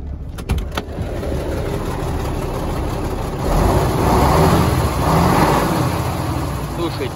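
A diesel engine, just repaired after a burst injection-pump fuel line, idles steadily and close by after starting, with a few sharp clicks at the start and a continuous low rumble.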